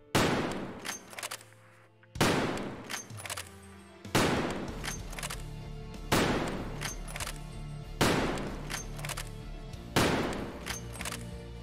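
Six M700 bolt-action sniper rifle shots in Escape From Tarkov, fired at an even pace roughly every two seconds, each a loud, close crack followed by a ringing decay, with no talking.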